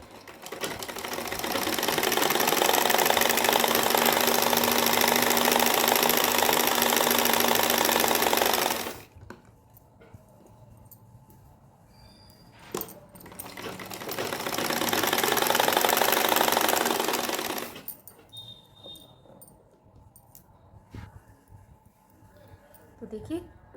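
An electric sewing machine runs basting stitches on the panel of a floral anarkali gown in two long, steady whirring runs separated by a quiet pause with small handling sounds.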